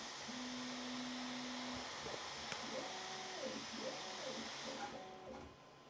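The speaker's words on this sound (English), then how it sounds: "Now there is a tool head cleaning." A Bambu Lab A1 Mini 3D printer runs its tool head cleaning, giving a faint steady whine followed by rising and falling stepper-motor tones, quiet and mechanical under a background hiss.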